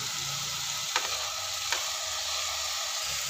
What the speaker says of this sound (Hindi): ये हमने कर दिया कीमा ऐड, और अब हमें इसे भूनना है जब तक कीमे का कलर चेंज ना हो जाए